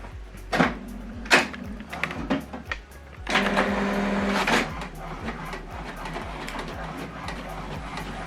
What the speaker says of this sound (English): once it's telling us the first set of documents is printing